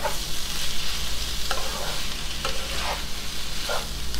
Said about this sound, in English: you can tell that the onion's starting to brown just a little bit